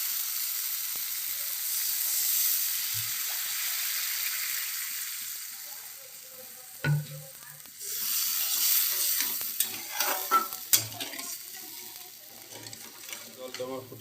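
Water poured into hot, oil-separated spice masala for a light rohu fish curry, a loud hiss and sizzle that builds, softens, then bursts again with bubbling crackles and a few clatters.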